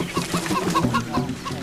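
Backyard hens cluck in quick, repeated bursts close by, several birds overlapping in a steady murmuring chatter with no talk.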